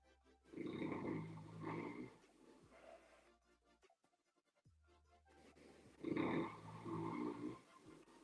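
A dog makes vocal noises, sounding like growly snorts or snoring bursts, in two louder stretches separated by a quieter gap, close to the microphone with no talking.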